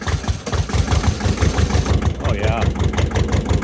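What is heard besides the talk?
old Massey Ferguson 210-4 tractor engine starting and idling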